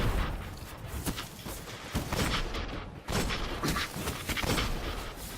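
The Fatebringer hand cannon fires in Destiny amid a loud game firefight: heavy, repeated booming shots with rumbling echoes, several blasts in quick succession over dense battle noise.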